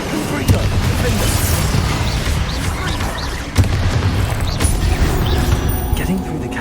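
Explosive spells such as Bombarda and Confringo are cast in the video game Hogwarts Legacy, giving repeated booms and bursts with a sharp blast partway through, all under ongoing spoken incantations.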